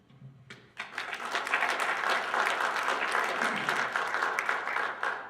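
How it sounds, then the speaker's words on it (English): An audience at a university student address breaks into applause, a quiet start giving way to sustained, crackling clapping from many hands that stays steady and fairly full until the end. "Let's get everyone here a round of applause from pulling together as a family, a team here at NIU."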